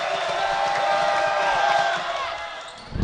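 Raucous crowd at a college basketball conference semifinal between Yeshiva and Farmingdale State, a loud sustained roar with whistles and whoops that swells and then starts to ease away.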